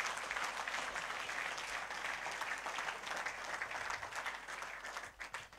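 Sustained applause from a church congregation at a healing and deliverance service, steady and fairly dense, fading slightly near the end.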